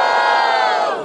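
A large crowd at a student rap battle roars and shouts in one loud, sustained burst of cheering that stays dense throughout and fades slightly at the end.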